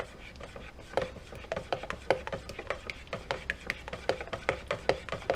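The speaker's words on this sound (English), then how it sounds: "I just want to like hand stir this in just to be certain" A spoon hand-stirring cold process soap batter in a container, a quick regular scraping rhythm of soft strokes, close and moderately quiet.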